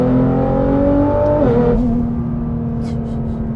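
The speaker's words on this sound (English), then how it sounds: "It does have a custom exhaust system." Tuned Nissan GT-R with a custom exhaust revving hard, a loud steady engine drone that drops in pitch midway and settles into a lower sustained tone, heard close without talk.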